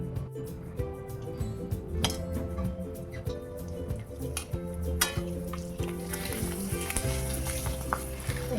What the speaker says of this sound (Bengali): পাঁপড় ভেজে দিলাম।